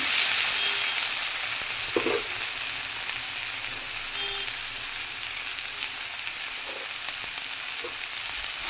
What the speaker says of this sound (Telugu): ఇందులో చూడండి అలా ఫ్రై అవుతుంది